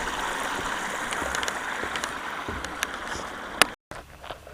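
A wide, shallow countryside stream with little water in it runs with a steady, soft rushing trickle close by. A brief dropout near the end interrupts it.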